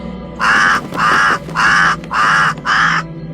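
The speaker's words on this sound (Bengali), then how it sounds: "কাকটা এত চিৎকার করছে কেন?" A cartoon crow caws loudly five times in a steady rhythm, each harsh call close and clear against a faint background.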